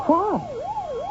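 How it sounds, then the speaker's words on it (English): A police car siren wails close by, its pitch sweeping up and down in a steady rising-and-falling cycle, with a voice speaking briefly over the start. "The police car, I should imagine. Seems to be coming this way."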